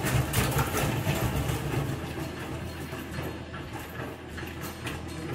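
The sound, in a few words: honey extractor spinning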